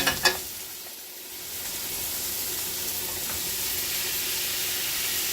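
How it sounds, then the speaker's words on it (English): Oil heating in a pan for skirt steak with shrimp gives a steady, close broadband sizzle that builds and holds evenly, with a couple of sharp clicks at the very start. "Get that oil nice and rolling."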